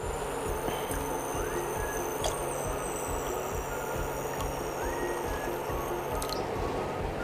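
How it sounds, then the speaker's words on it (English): Water is poured into a cooking pan in a home kitchen, a continuous liquid splash and trickle filling steadily for several seconds, with a few brighter drips and clinks and no talking. "Add water in a pan."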